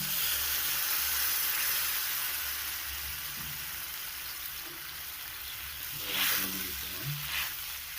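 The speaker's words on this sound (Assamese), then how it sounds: "এতিয়া মই দি দিছোঁ গৰম পানী।" Hot water poured into frying masala for a cauliflower curry brings a soft hissing sizzle that fades slightly, then a short louder burst of sputtering and steam near the end.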